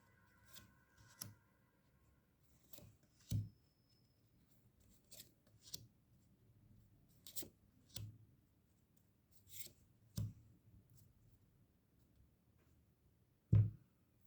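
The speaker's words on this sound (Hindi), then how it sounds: "final shuffle" Tarot cards shuffled in a series of separate crisp riffling bursts, each a short papery snap, spaced a second or two apart over a soft, quiet background with no talking.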